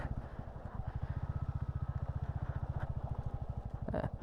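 A Royal Enfield Bullet 350 motorcycle is ridden on a solo highway trip, its single-cylinder engine thumping in a fast, even, close and steady beat, with no talking over it.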